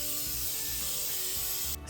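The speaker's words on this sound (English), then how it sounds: "I have an olive oil spray here." Olive oil spray hisses steadily into a pan heating over high heat for a steak, a continuous close spray that cuts off abruptly at the end.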